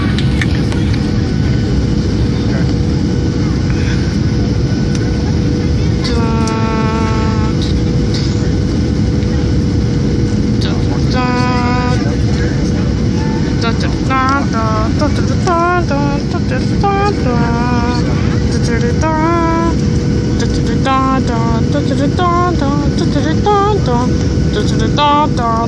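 Inside the cabin of a landing airplane, a loud, constant roar of engine and airflow carries throughout, and voices talk over the noise.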